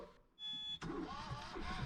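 A boat engine is started clumsily: a brief whirring crank, a sharp catch, then a rough, uneven mechanical running that stays fairly quiet.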